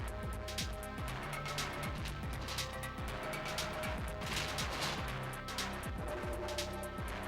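Gunfire in the Goldeneye 007 video game during a headshot, dense and busy, with repeated sharp cracks and crashes layered over a steady game soundscape, loud throughout.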